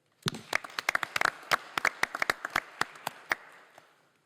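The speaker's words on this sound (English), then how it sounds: "please, round of applause for Chief Franklin." Audience applause at a San Francisco Sheriff's Office women's symposium: scattered, fairly sparse hand claps from a modest crowd, sharp and close, continuing steadily for a few seconds before thinning out.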